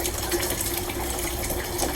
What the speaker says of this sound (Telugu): ఈ ట్యాంక్ అంతా కడిగేసి ఫ్రెష్గా నీళ్ళు నింపుకుంటున్నాను